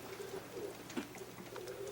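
Racing pigeons coo softly inside a loft holding about 25 birds, with several overlapping low, throaty coos across a quiet background.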